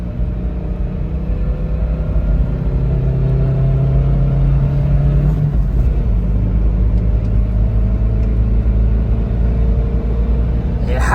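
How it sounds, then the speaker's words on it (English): A Daihatsu Terios engine revs hard after a downshift, heard from inside the car as a loud, steady droning rumble with a rising whine, then a shift in pitch midway. "Like I mentioned, this thing revs out."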